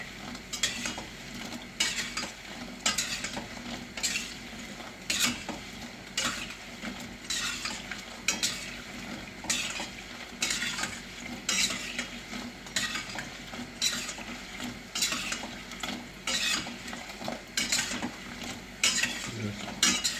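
Lokma dough balls frying in hot oil, a continuous crackling sizzle broken by regular bursts of stirring and metal utensils scraping against the pan, repeated every second or so throughout with no talk.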